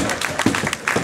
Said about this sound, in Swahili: makofi kwa Mheshimiwa Heche